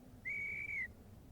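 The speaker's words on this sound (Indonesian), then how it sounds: "Wasit membunyikan peluit." A referee's single clear whistle blast at a ball game, sharp and high, lasting about half a second against quiet background noise.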